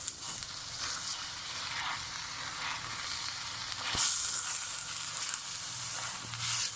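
Onions frying over a high flame for Lahori chanay, giving a steady close sizzle that swells louder about two-thirds of the way through, with brief crackling peaks and no voices.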